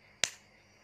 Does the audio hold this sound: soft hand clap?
yes